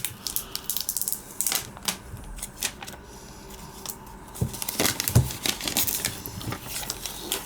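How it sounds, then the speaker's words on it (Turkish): Cardboard packaging of an iPhone 11 128 GB in Product Red being opened, with close, dry scraping, sliding and crinkling bursts that come in irregular clusters, some sharp clicks and taps, and quieter pauses in between. "Şu şekilde kutumuzu açıyoruz"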